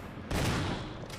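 Gunfire in the survival horror game Resident Evil: a loud burst lands sharply after a quiet moment and rolls into a dense, sustained crackle that fades slightly toward the end.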